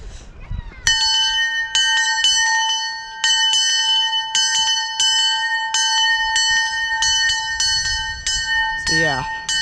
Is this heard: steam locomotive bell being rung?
yes